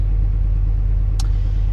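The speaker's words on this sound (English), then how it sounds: "we're going to start the car" A Pontiac Grand Prix engine idles steadily with a low, even rumble, close and continuous, with one brief higher click partway through.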